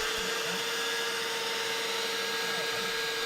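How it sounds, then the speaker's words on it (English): A CNC machine cutting a wooden bowl, with a constant loud motorized whine and a steady tonal hum from the spindle running without a break. "the CNC machine will come right along and make that same cut on the opposite side"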